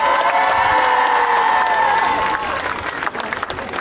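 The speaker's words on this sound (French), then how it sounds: "on peut applaudir tous ceux qui ont fait." Applause and cheering with shouts and whoops fill a town hall in Aulnay-sous-Bois for footballer Moussa Sissoko, loud and crowded, then easing into scattered claps and voices.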